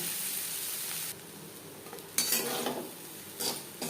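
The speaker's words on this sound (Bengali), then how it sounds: "কাঁকড়ের সাথে নারকেল মিক্স করে দেবো মিডিয়াম ফ্লেমে আরও তিন চার মিনিট নাড়াচাড়া করে নেব" Grated coconut mixed with crab fries in a pan over a medium flame as it is stirred, with a continuous soft sizzle broken by a few sharper scraping strokes of the spoon.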